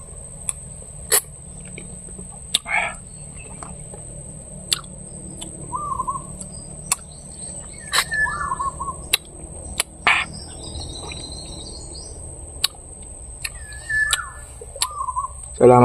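A bird calls in a quiet forest, giving short scattered chirps and whistles at irregular intervals, some near and some farther off, with sharp clicks and knocks between them.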